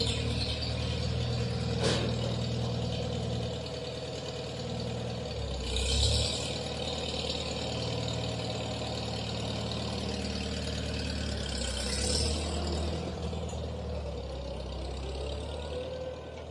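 A Farmall-red tractor engine, long unused, runs at a steady idle with a deep, continuous low rumble, close and loud throughout, with a couple of brief swells in its note.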